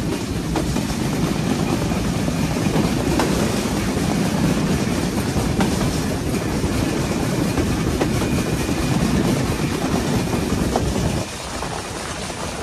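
The Sundarban Express (726) passenger train runs between Kushtia and Khulna, heard from inside the coach as a loud, steady rumble with rhythmic wheel clacks, easing slightly near the end.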